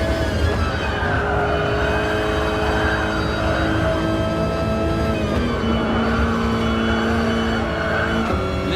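A Group 4 race car in GT Sport on Central Outer Loop East roars steadily at high revs, a loud continuous engine drone with shifting pitch and hints of tire squeal, heard alone throughout.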